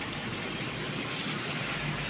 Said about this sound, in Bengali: বৃষ্টি শুরু হয়েছে, দেখো কীরকম।